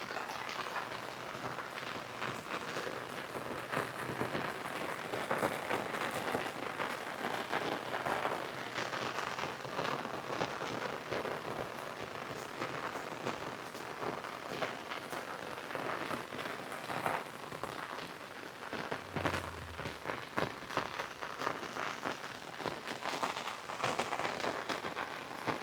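Steady rain falling and pattering on surfaces, a dense continuous hiss with scattered drop impacts lasting throughout, fairly soft and even, with no voices.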